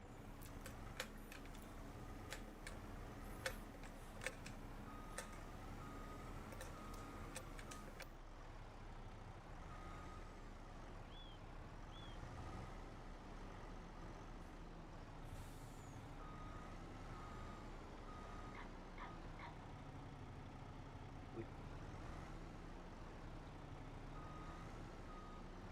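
A truck in the Farming Simulator 25 video game backs up with steady reversing beeps over a low diesel engine hum. The beeping is most distinct early on, and the engine rumble continues throughout.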